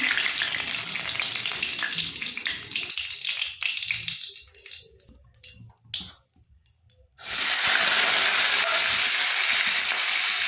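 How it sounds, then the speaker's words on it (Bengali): A whole dried chilli hits hot oil and sizzles loudly. The hiss breaks into crackles and drops almost to silence, then resumes as a strong, steady fry. "তেল গরম হয়ে গেছে, একটা গোটা শুকনো লঙ্কা ফোড়ন দিয়ে দিচ্ছি।"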